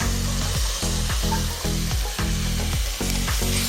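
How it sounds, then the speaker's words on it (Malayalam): Chopped tomatoes sizzle steadily in a frying pan for a tomato egg bhaji, with stirring giving a regular scraping pulse under the loud frying, and no talk. "എന്നിട്ട് നമ്മൾ എടുത്ത് വെച്ച തക്കാളി അരിഞ്ഞത് ചേർക്കാം."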